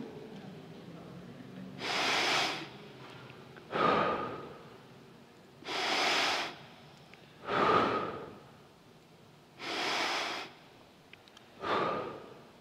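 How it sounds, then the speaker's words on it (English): Six slow, deep breaths, long airy inhales and exhales in an even rhythm with pauses between, close and clear with no speech. "breathe deeply three times and listen to your breath"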